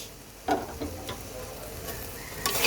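Prawn dopiaza masala with tomato and green chili sautés in a pan, a soft continuous sizzle broken by a few sharp spoon scrapes and taps, with no talking.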